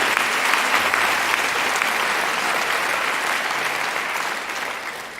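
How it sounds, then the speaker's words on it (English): A graduation ceremony audience gives a sustained round of applause, a thick, even roar of many hands clapping that eases slightly toward the end. "we should recognise their part in all of this with a big round of"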